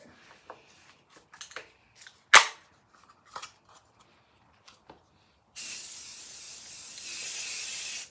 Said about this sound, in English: So we're just going to spray on the base coat.